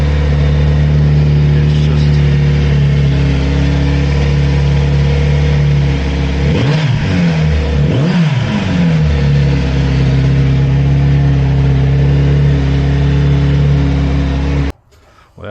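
Kawasaki Z900RS Cafe motorcycle engine running close by, a steady harmonic idle that rises in two quick revs in the middle before settling back, then cutting off abruptly near the end.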